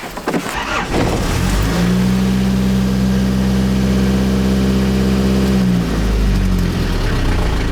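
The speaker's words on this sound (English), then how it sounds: "the truck is perfect for this kind of thing" A truck on a rural farm track in Portugal drives along with a loud, steady engine drone, rising as it pulls away and holding an even hum before easing off near the end.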